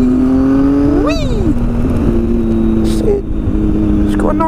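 A motorbike engine revs up to around 6,000 rpm in short bursts, with a rising pitch that sweeps up and falls back, heard close and loud over steady engine drone, along with some talking.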